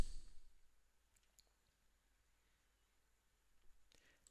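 A few faint, crisp computer mouse clicks while saving changes in website settings, one near the start and a small cluster near the end, separated by near silence.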